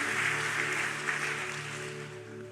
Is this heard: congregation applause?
yes